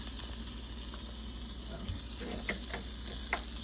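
Deer steak fries in a pan with a low, even sizzle and hiss, with a few soft pops and ticks scattered across it.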